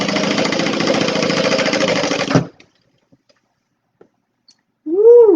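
A sewing machine stitches a Stella Weekender bag in a fast, steady, loud run for about two seconds, then stops abruptly, leaving near silence with a few faint clicks before a short voiced sound at the end.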